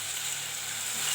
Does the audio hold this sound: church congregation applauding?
no